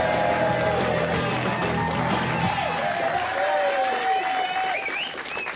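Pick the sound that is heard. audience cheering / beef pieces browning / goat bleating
audience cheering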